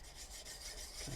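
Graphite is rubbed into a smoothed surface, giving a brief, soft, continuous scratchy rasp of close rubbing strokes with no voices.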